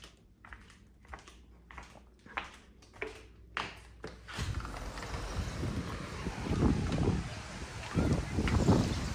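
Footsteps tap indoors, then strong wind on a beach condo balcony buffets and roars in uneven gusts that grow louder toward the end, with no talking.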